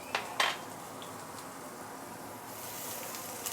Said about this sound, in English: using the same pan, I'm going to fry some ginger